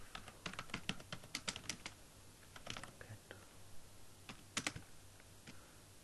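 Typing on a computer keyboard: quick, faint clusters of key clicks in uneven bursts, pausing briefly between runs, alone without any voice.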